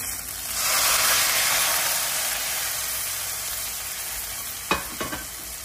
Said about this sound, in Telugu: ఇప్పుడు దీంట్లో నేను వెల్లుల్లిపాయ, కొంచెం పోపు వేస్తున్నాను, కరివేపాకు, ఎండుమిరపకాయ